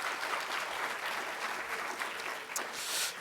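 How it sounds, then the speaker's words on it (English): A round of applause from an audience at a distinguished speaker event, a steady, moderately distant clatter of many hands with no talking over it. "please join me in giving Colette and Gary and the team a round of applause."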